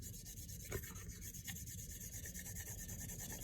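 Polishing the flat of a Shirogorov folding knife blade, a soft, continuous rubbing rasp with an even back-and-forth texture, close but quiet, with no voices.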